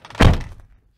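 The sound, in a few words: VW Amarok door closing with a thud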